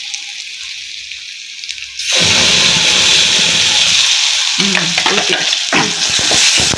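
Onion, green chilli and tomato paste sautés in a hot pan; after a quieter start, a loud, close, steady sizzle takes over, with intermittent stirring scrapes near the end.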